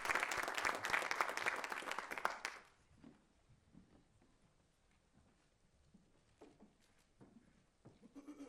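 Audience at a faith-based spring conference breaking into loud applause as panelists and a moderator come onstage, a bright burst of clapping that stops abruptly and gives way to quiet room sounds.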